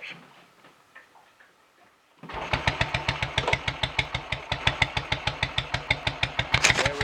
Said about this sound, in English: good easy starter and straight into a nice smooth steady tick over